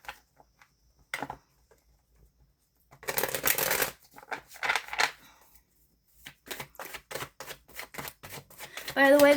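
Tarot cards shuffled in a quick riffling patter, a burst near the start then steady rapid flicks toward the end, close and fairly quiet with no talk over them.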